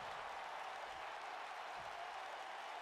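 A wrestling video game crowd fills the arena with a constant, dense wash of cheering and applause, steady and far off, with no break and no clear voice on top.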